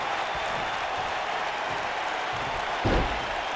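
A steady wash of crowd noise and applause from a WWE 2K22 wrestling arena runs throughout at an even level, with a brief thud near the end.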